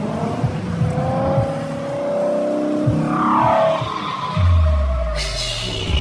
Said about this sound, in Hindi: इसकी इंजन की आवाज से भी लग रहा है कि ये कार बहुत फास्ट होगी